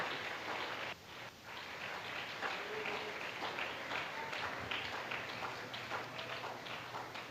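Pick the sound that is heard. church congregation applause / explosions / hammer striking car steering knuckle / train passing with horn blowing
church congregation applause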